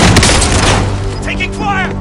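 Gunfire in an online shooter game, a dense burst of loud booming shots and explosions up close, with voices and radio chatter mixed in.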